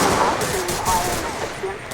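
Automatic gunfire from a mafia shootout in the police-patrol game GTA LSPDFR crackles steadily throughout, with dense bursts of shots over a continuous layer of game noise.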